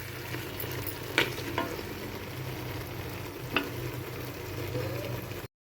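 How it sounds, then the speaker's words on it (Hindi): Goat tripe (ojri) frying in oil in a pot, a steady low sizzle throughout with a few sharp clinks of a spoon against the pot. "ये बट हमारे अच्छे तरीके से भून रहे हैं।"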